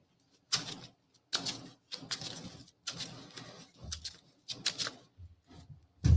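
A deck of trading cards shuffled during a tabletop card game, in several quick riffling bursts separated by short pauses, close and fairly loud with no speech.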